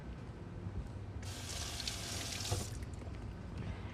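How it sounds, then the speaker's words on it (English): Cucumbers, Japanese ones, being rinsed under running tap water in a kitchen: a steady broadband rush of water begins after a brief quiet start and continues for a few seconds, fairly soft and alone. "Give them a quick rinse, actually."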